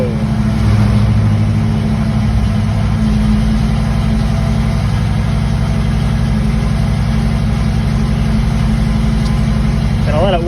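A built engine in a 1967 Pontiac Firebird convertible idling just after a cold start, a loud, steady low rumble with a fast, even pulse, close up and continuous, with someone talking over it.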